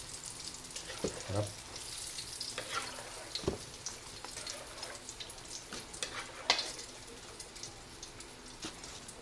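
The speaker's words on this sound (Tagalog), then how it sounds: "Ang ating unang salang na fried chicken." Fried chicken pieces sizzle in hot oil for a holiday meal, a steady crackling hiss dotted with sharp pops and spatters, while a voice speaks briefly nearby.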